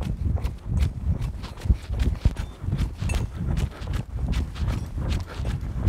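Hooves of a horse ridden in shoulder-in strike the arena footing in a steady, rhythmic clip-clop, close and moderately loud, with no voices over them.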